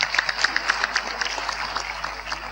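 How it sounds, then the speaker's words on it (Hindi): An audience claps at a yoga festival in Guwahati, Assam, a dense patter of many hands at moderate distance, steady and fairly loud throughout the short stretch. "एक बार जोरदार तालियां हो जाए इसके लिए भी"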